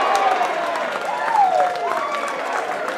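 A wrestling crowd applauds and cheers behind a commentator's voice, a steady roar of clapping and shouts throughout.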